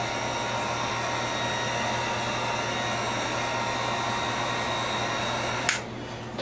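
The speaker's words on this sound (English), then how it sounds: "So we'll give this a little bit of a heat dry." A heat gun blows a steady, loud whooshing roar while drying paint on a model Reliant car. It runs unbroken and close until a sudden click cuts it off near the end.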